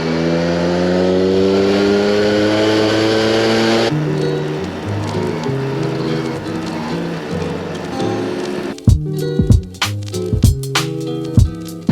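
A small Honda Motocompo scooter engine drones steadily while riding at about 12 mph, its tone rising and shifting through the first seconds, then sputtering into irregular bursts and pops near the end, close and fairly loud.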